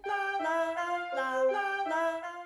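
Synthetic vocal tones from the Chrome Music Lab Kandinsky app sing a short sequence of sustained notes, about six steps shifting in pitch, clear and steady with no pauses.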